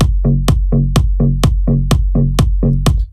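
Kick drum pounding a steady four-on-the-floor beat over a layered top and sub bass synth in dance music production, with punchy kicks alternating with short bass notes, loud and continuous.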